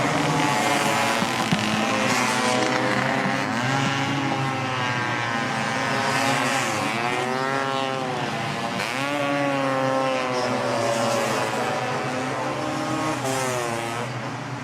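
Two-stroke Vespa scooters race around a track in a final, their high, buzzing engines rising and falling continuously as several machines pass close by, loud and steady throughout with no talk.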